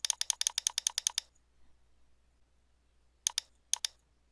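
Rapid mouse clicks come in a quick burst of about ten, then after a pause two more clicks, each crisp and close against near silence while adjusting text spacing in HitFilm editing software.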